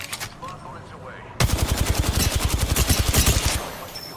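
Rapid automatic weapon fire in the shooter game Apex Legends bursts in suddenly after a quiet moment, a loud, evenly spaced string of shots lasting about two seconds before cutting off.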